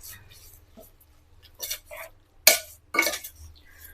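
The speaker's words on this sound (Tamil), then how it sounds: "இதையெல்லாம் நல்லா கலந்து விட்டுடலாம்." A spoon stirs a South Indian mutton kurma mixture in a pot, giving soft scraping with a few sharp metallic clinks against the pot's side.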